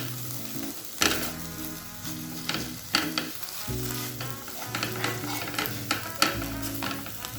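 Broccoli bharta mixed with coriander paste in a pan, giving a steady sizzle and frying hiss with repeated scraping strokes and clinks of a utensil, close up, no voices.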